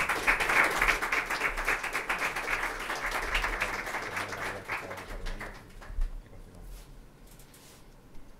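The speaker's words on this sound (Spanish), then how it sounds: "Bueno, pues un aplauso para Noelia." An audience at a book presentation in València claps for several seconds, a moderately loud crackle of hands that fades out after about six seconds into a quiet room with faint background sounds.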